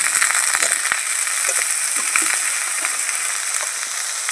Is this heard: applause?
no